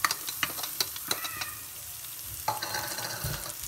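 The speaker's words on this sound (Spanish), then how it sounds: "Voy a poner otro chorrito de aceite." Onion sizzles and hisses in hot oil in a pan while Chinese fried rice is prepared, with a steady frying crackle broken by a few sharp stirring scrapes and taps near the microphone.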